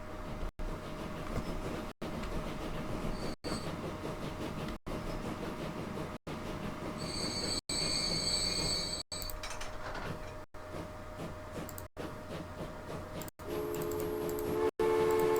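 Passenger train running in the video game Transport Fever: a steady rumbling roll with regular rail clicks about every one and a half seconds, brief chimes and tones over it, and no talk.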